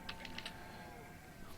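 Light clicks of typing on a computer keyboard, a few quick taps early on and then sparse, fairly faint, over steady background sound while managing a city-building game.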